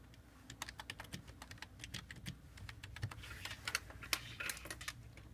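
Steady typing on a computer keyboard, a run of quick, light key clicks with uneven rhythm, close and moderately quiet over a low background hum, with no voices.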